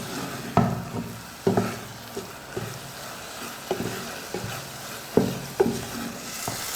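A spoon stirs thick jaggery syrup cooking down in a pan, giving soft scraping strokes at an uneven rhythm over a low, steady bubbling sizzle, close and fairly quiet.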